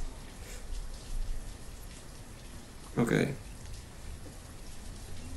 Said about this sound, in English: And it's raining a lot here.